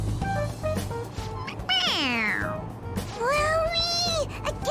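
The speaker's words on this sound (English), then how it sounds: "It meows when you press on its head." A toy cat gives two drawn-out electronic meows when its head is pressed, heard aboard a train bound for Shibuya, with chatter and low rumble of the carriage underneath.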